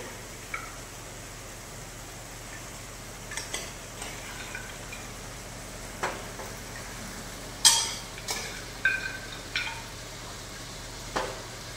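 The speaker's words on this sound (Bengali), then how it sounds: "মটন মুন্ডটা দিয়েও আমরা ভালো করে কষিয়ে নেব।" Boiled mutton head sautéing in oil in a pan, a steady sizzle with intermittent spoon scrapes and clinks against the metal, close and alone with no voices.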